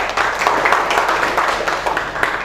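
Classroom applause for a student group, a steady wash of many hands clapping together, close and loud throughout the short burst.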